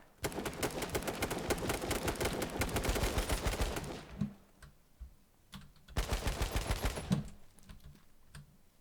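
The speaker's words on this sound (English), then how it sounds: "so much shooting" Rapid automatic gunfire from a shooter video game bursts out in two long dense volleys separated by a lull with a few scattered shots, loud and close, with no talking over it.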